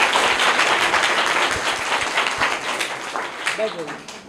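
A crowd at a children's quiz competition claps in a steady broadband wash of applause that fades slightly toward the end, with a voice briefly audible near the finish.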